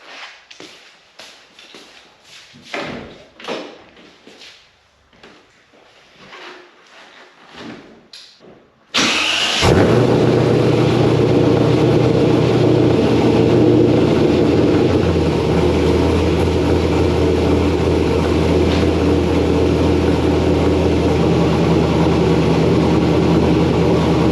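A 1992 Pontiac Firebird engine with a newly fitted exhaust cranks and roars to life after several seconds of faint clicks and shuffling, then settles into a loud, steady, throaty idle.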